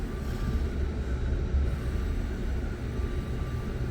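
A steady low rumble from inside an Exo commuter train riding old tracks on the Vaudreuil-Hudson Line, even and continuous throughout with no voices.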